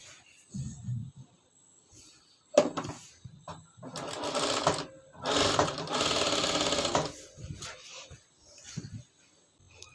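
A sewing machine runs a double stitch on a child's frock in several close bursts of rapid mechanical whirring, separated by brief pauses and clicks.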